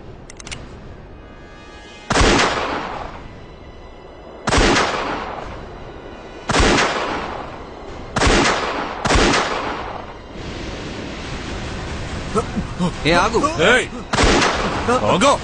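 Loud gunshots ring out in a Telugu crime drama scene searching sandy ground for a hiding suspect, about seven sharp blasts spaced a second or two apart, each with a short echoing tail, some faint movement between them.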